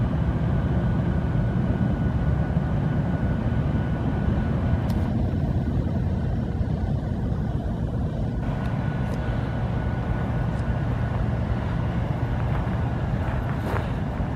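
A massively long freight train rolls past at Derby Reach Regional Park in British Columbia, a steady low rumble and roar that continues without a break, with faint higher squeals drifting in and out.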